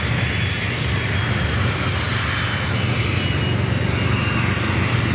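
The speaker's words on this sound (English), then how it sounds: "Flight arriving with Southwest Airlines. Coming in from Baltimore, Maryland, a 737 MAX 8, flight 1919." A Southwest Airlines Boeing 737 MAX 8 arriving from Baltimore at San Diego airport gives a loud, steady engine roar with a broad rushing wash throughout, close and continuous.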